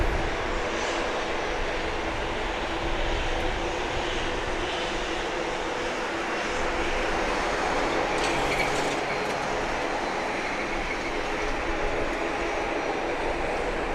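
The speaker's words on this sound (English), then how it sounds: "here comes the Southwest 737-700 barreling down runway" A Southwest Boeing 737-700 jet roars down runway 8 at Grand Cayman airport on takeoff, a steady broad rushing noise heard from a distance.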